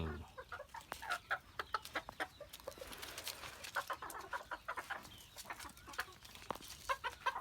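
Bantam chickens clucking repeatedly in short, irregular bursts, fairly close, with several birds calling over one another and no talking.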